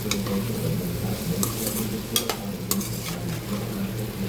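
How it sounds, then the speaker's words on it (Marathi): Fried bitter gourd stirred into a frying pan, with soft scraping and clinks from a spoon against the pan over a low, steady sizzle, close and with no talking. "आपण जे कारले फ्राय केले ते आपण घालून घेऊया"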